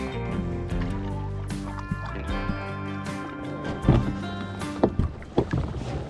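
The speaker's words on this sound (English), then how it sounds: "Huge kelp forest here, which makes for some rough paddling" Kayak paddling through a dense kelp forest in a temperate rainforest, with soft sloshing and paddle strokes under a busy, tonal background and a few sharper splashes toward the end.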